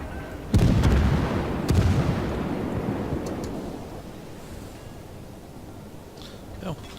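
Battleship main guns fire in the naval game World of Warships: two heavy booming salvos about a second apart, each with a long rumbling decay over a steady sea-like wash.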